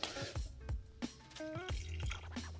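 Water drips and trickles in irregular drops from the washer fluid bottle of a 2003 Infiniti M45, close and fairly quiet, with small splashes landing below and no talking.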